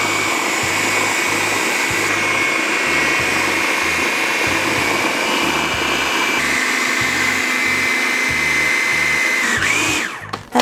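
Electric mixer whirring loudly and steadily while beating strawberry forest cake batter with milk and flour, its motor tone holding nearly constant before cutting off abruptly at the end, with a faint rhythmic knocking underneath.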